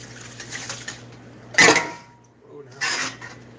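Vegetables are strained out of a German sauerbraten marinade in a kitchen, giving two brief, close splashy clatters of liquid and cookware, with a faint voice in the background.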